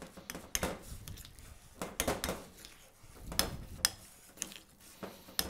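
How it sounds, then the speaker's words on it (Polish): A spoon knocks and scrapes against a bowl while pancake topping paste made with parmesan oil is stirred for blini, giving irregular clinks and taps at a quiet, close level with no voices. "Kropimy odrobiną oliwy parmezanowej i wszystko dobrze mieszamy."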